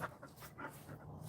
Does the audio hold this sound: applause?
no